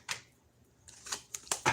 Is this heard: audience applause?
no